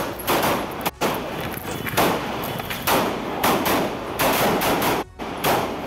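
Many gunshot rounds are fired at close range in a shooting attack, forming loud, dense, chaotic bursts of cracks and bangs that break off briefly a few times.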